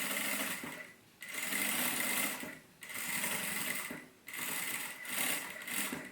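Sewing machine stitching quilted matelassê fabric, running in loud, fast bursts separated by short pauses as the material is repositioned.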